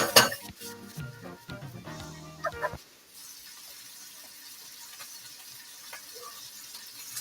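Lamb chops are turned in a pan with a few sharp clanks of metal utensil on cookware and rattling pan clatter, followed by a quieter sizzling stretch.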